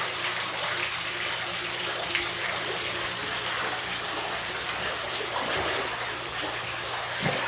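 Water seeps and trickles into a flooding basement in Indianapolis, a steady, faint hiss of running water with a low hum from a heating and cooling unit beneath it.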